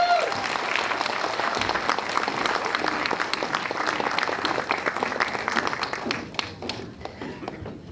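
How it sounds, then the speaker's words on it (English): A theater audience applauds two saxophonist brothers with sustained, dense clapping that thins out and fades toward the end. "ladies and gentlemen, a big round of applause for two brothers"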